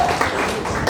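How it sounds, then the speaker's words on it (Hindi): A crowd claps hard for a couple on stage at a Hindi comedy show: dense, continuous applause, close and fairly loud, with no clear gaps between the claps. "आप लोग को जोरदार तालियां बजानी है"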